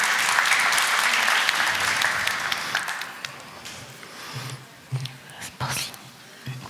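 Applause at a real estate awards ceremony, a loud burst of clapping from the audience that thins out after a few seconds, leaving scattered claps, murmurs and a few thumps.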